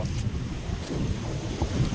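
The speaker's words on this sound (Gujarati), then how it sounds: "પવન બહુ છે એકચ્યુઅલી અહીંયા" Strong wind in Ghoghla, Diu buffets the microphone in a steady low rumble with gusty swells, with no voices.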